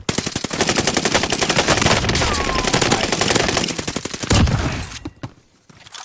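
Sustained rapid automatic gunfire in the video game Warzone rattles almost continuously for several seconds, loud and close, then breaks off into a few scattered shots and quiet.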